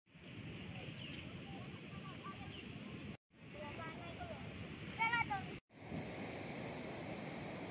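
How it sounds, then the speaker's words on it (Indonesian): Surf washing onto Bajul Mati beach in Bantur, Malang, East Java, a broad continuous roar with wind buffeting the microphone, broken by two brief cuts, with faint voices and bird-like chirps over it. "Sekarang saya berada di Pantai Bajul Mati, Kecamatan Bantur, Kabupaten Malang,"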